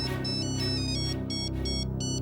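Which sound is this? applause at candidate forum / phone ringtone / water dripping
phone ringtone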